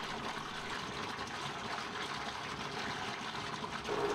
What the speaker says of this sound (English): I am going to fill the laundry tub with rinse water